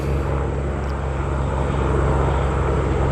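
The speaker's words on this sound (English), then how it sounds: "a Black Ops helicopter actually circling me." A helicopter circles overhead, its engine and rotor making a loud, steady, unbroken drone for the whole stretch, with no talking.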